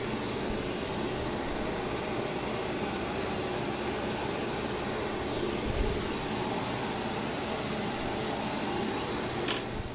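A Honeywell 50150 air purifier runs loud and steady, a broad whooshing rush of moving air like a small vacuum, holding constant throughout with no talk.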